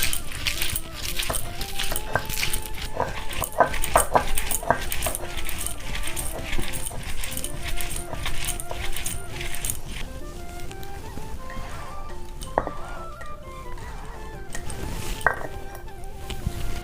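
Fresh spinach being ground into a paste, a continuous rhythmic rubbing and grinding with clinks and knocks throughout, fairly close and steady, easing off in the second half, no speech.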